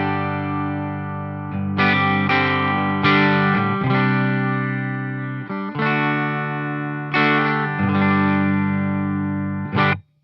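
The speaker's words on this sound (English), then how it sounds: "So here's the clean tone of the IB45." Clean electric guitar chords ring out through an IB45 amp, strummed in several distinct hits with sustained harmonic decay, then cut off abruptly at the end.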